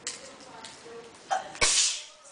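One loud, abrupt sneeze from a person nearby, preceded by a quick catch of breath, set against quiet indoor chatter.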